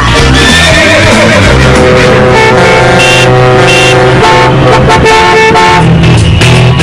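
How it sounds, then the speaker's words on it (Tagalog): Loud congested street traffic in Metro Manila, with car horns tooting in overlapping sustained blasts over a constant engine rumble, heard close and continuously throughout. "Sa buhol-buhol na traffic ngayon sa Metro Manila"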